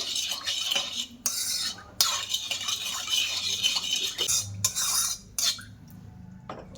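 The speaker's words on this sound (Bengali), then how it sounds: "এবার দিয়ে ভালো করে মিশিয়ে নেব পাউডার আর চিনির সঙ্গে" A spoon scrapes and rubs against a bowl as gelatin powder and sugar are mixed. The gritty stirring comes in repeated close strokes with brief pauses and occasional light clinks, and no one speaks.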